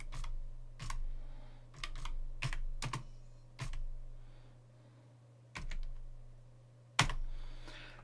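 Keys on a computer keyboard clack in short bursts of a few strokes each, separated by pauses, close and crisp over a low steady hum.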